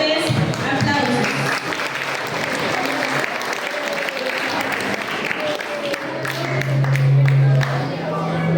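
An audience at a student essay and speech contest applauds a student speaker with sustained, full clapping from a crowd in a hall, loud and steady, with some voices and noise underneath.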